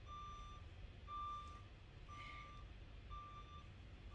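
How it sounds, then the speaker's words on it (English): A reversing truck's warning beeper sounds four evenly spaced tones against a steady low rumble, fairly faint and distant. "Hold you all in suspense while they're backing up the truck."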